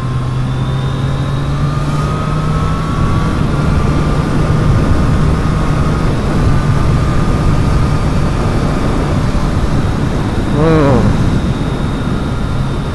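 Triumph Street Triple 765R motorcycle engine running steadily at close range, a constant low drone with a rising whine partway through, over continuous wind noise, while a rider talks intermittently.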